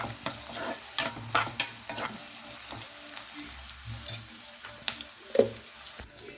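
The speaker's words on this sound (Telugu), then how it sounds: "ఇలా వేగుతుండగానే చిటికిడంతా పసుపు వేసుకోండి వేసుకొని ఇది కూడా ఆయిల్లో మంచిగా మిక్స్ అయ్యేలాగా కలుపుకోండి" A pinch of turmeric is stirred into hot tempering oil for an okra fry, giving a quiet, steady sizzle broken by scattered scrapes and clinks of the spoon against the pan.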